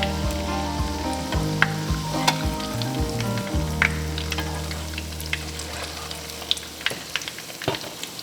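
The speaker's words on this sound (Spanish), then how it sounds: "ahora lo voy a terminar de freír" Tuna croquettes fry in hot oil with a loud, close, constant sizzle, sharp pops and crackles scattered throughout and a low hum beneath, no voices.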